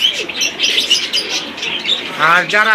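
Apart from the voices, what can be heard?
pigeons cooing at bird market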